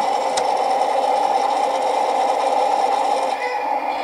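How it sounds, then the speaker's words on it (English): A motorized toy runs with a steady, loud, whirring buzz that holds constant throughout, close by and with no talk over it. "It's motorized, lights, action, sound."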